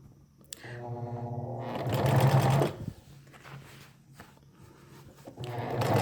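A sewing machine topstitches along the seam of a basic skirt, its motor whirring in short runs that speed up and slow down, with close mechanical clicks between stitching bursts.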